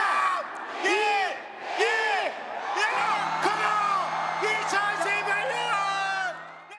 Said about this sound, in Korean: 카운트다운에 맞춰 시민들은 일제히 환호성을 지르며 새해를 맞았습니다